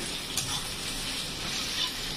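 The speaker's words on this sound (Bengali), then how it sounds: "পেঁয়াজ কুচি দিয়ে নাড়াচাড়া করতে হবে।" Chopped onion sizzles steadily in hot oil in a pan for a Dhaba-style chicken curry, a soft continuous frying hiss with faint scraping as it is stirred, fairly quiet and without talk.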